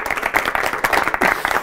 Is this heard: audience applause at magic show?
yes